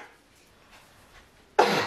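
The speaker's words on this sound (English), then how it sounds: "you're making me cough" One short, harsh cough bursts out near the end after a quiet moment, close and loud.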